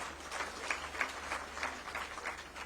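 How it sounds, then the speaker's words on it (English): Faint, distant applause for an award recipient at an outdoor anniversary gala dinner, a steady patter of many hands continuing throughout. "A round of applause for him."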